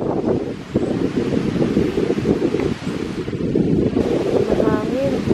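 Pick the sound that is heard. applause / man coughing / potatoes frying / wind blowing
wind blowing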